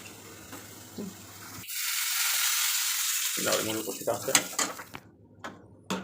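Chilli and tomato hit hot oil in a pan while cooking mung dal, bursting into a loud close sizzle that settles into steady frying, followed by stirring and clinking of cookware.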